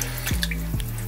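Pieces of pork belly drop into a pot of salted water with two distinct splashes, close and fairly loud, over a running-water background.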